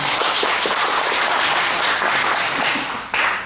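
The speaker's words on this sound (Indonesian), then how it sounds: "Tepuk tangan buat saudara saya" Congregation applauding at a Sunday church service, a dense steady patter of many hands clapping throughout, with a brief dip near the end before it swells again.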